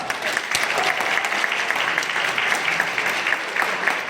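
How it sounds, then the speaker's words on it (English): Audience applause at the opening ceremony of a university hackathon, dense and steady clapping from a large crowd filling the room, sustained at even loudness throughout without pauses. "Give them a round of applause."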